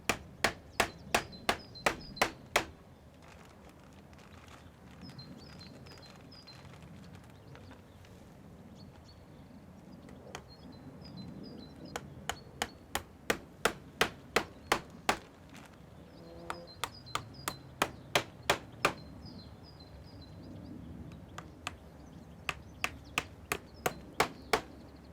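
Nails hammered into a timber base rail while fitting a polytunnel cover, heard as bursts of sharp, rapid, evenly spaced strikes separated by quieter pauses, fairly close.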